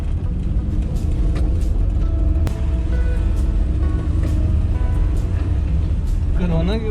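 Car engine running at idle after being started, giving a continuous, loud, low rumble throughout, with voices talking faintly over it.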